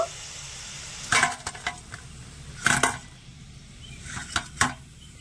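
Potato puli pitha sizzle in hot frying oil under a soft, steady hiss, broken by a few sharp clinks and scrapes of a utensil in the pan.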